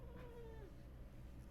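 A cat meows in a single drawn-out, falling call, close and clear over a low steady background hum.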